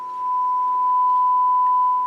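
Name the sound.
1 kHz sine wave test tone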